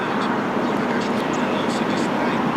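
A TAP Air Portugal Airbus A330neo departs runway 20 at Lisbon airport, its broad steady jet roar filling the air at a distance, with faint higher tones drifting over the top.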